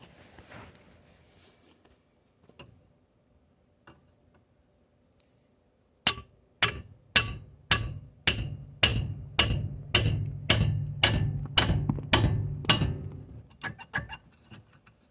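A hammer pounds on the tie rod end of a 2003 Chevrolet Impala to knock it loose, about fourteen loud metallic clanks in a steady, rapid rhythm after a quiet stretch of faint shop noise, close to the listener.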